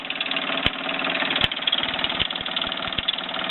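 A 1967 Mamod SE2a toy steam engine drives a small workshop setup, giving a steady, loud mechanical chugging and whirring close up, with a few sharp clicks and knocks throughout.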